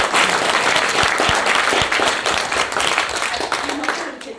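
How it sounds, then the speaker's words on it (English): Forum audience at a talk in Tunbridge Wells breaking into loud, sustained applause, a dense continuous wash of clapping that tapers slightly at the end. "A hand of applause for this man."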